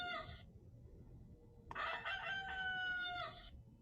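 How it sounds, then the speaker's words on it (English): A farm rooster crows twice: a short call, a pause, then a longer drawn-out cock-a-doodle-doo, fairly faint against steady outdoor background noise. "this is the galo, a rooster. And the rooster goes."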